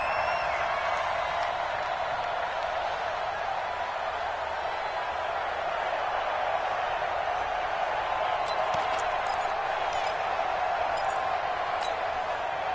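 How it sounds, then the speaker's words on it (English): Steady roar of a stadium crowd inside the Dome during a football video game, a constant wash of noise at even loudness with faint clicks near the end. "The crowd here in the Dome making things difficult."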